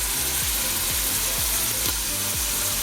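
Steady, loud sizzling fills the whole clip, a constant hissing crackle of meat frying in hot oil in a pan, with faint rhythmic scraping underneath.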